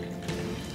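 Soda water poured over ice, rum and sugar in a glass for a mojito, a short steady liquid fill with faint fizzing and a small splash, close and alone.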